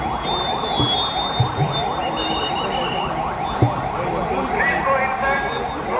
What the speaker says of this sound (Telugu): ఎయిర్ రైడ్ సైరన్ వచ్చింది